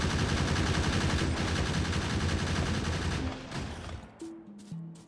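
Dense, rapid automatic gunfire from defensive turrets mowing down enemies in Factorio Space Age on a deathworld map, a continuous loud barrage that thins out near the end, leaving a few short tonal game blips.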